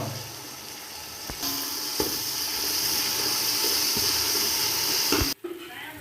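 Tomatoes hitting a hot pan for Andhra chicken biryani set off a loud, steady sizzle and hiss that starts abruptly and holds for several seconds, with occasional stirring clinks, then cuts off sharply near the end.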